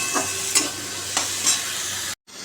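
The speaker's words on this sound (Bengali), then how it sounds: "কষাচ্ছি এখন এটা টমেটো দিয়েছি পেঁয়াজ কাঁচা লঙ্কা" Egg curry masala with tomato, onion and green chili is sautéed in a pan: a constant sizzle with a few scraping stirs of the spatula, then a sudden brief cut near the end.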